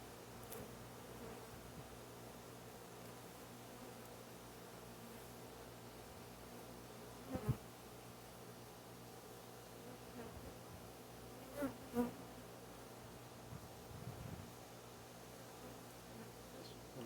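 Honeybees in an open hive during an inspection give a faint, steady buzzing hum over many seconds, with a few soft rustles and bumps and no voices.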